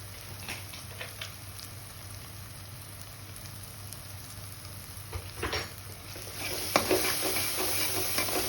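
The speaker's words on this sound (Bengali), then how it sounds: "এটা একটু নেড়ে মিশিয়ে নেব" Fried spice paste with salt and garam masala stirred in a pan for palak paneer, a faint steady sizzle with scattered spatula scrapes that grow louder and busier toward the end.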